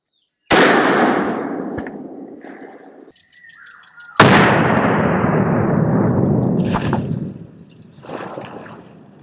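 Rifle shots fired at a current-issue US Army helmet: two sharp, loud blasts a few seconds apart, each trailing into a long rolling outdoor echo, with faint rustling between them.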